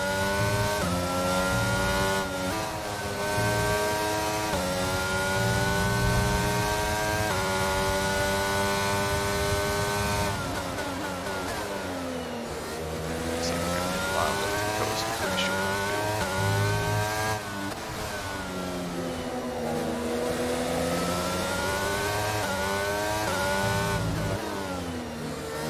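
F1 car engine in the F1 22 racing game at Barcelona, suffering an engine problem: a steady, loud high-pitched engine whine with rising and falling pitch sweeps through gear changes, continuous with no talk.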